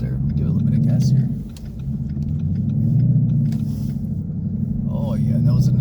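A 2016 Ford Mustang GT on Bridgestone Blizzak WS80 winter tyres gets a little throttle in 8-10 inches of snow, its engine a low, steady rumble heard from inside the cabin while someone talks over it.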